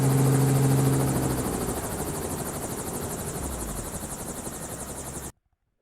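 A voice imitates a helicopter, a loud, steady whirring chop with rapid rhythmic pulsing that holds for about five seconds, then cuts off abruptly into silence.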